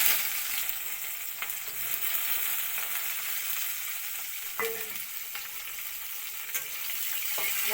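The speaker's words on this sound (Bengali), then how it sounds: "মধ্যে তেল আছে গরম তেল এটার মধ্যে আমি তেজপাতা দিয়ে দিলাম তারপর কাঁচা পেঁয়াজ" Bay leaf and raw onion fry in hot oil with a soft, steady sizzle, punctuated by occasional light clicks of stirring, close and fairly quiet with no talk.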